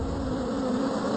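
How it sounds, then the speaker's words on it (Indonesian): Bees buzzing near a beehive make a dense, continuous close-up hum that holds steady and loud throughout, with no voices. "Ada sarang lebah."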